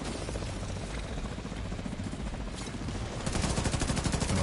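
Rapid bursts of gunfire in Division 2 rattle continuously, growing louder and denser toward the end, with a steady engine-like drone underneath.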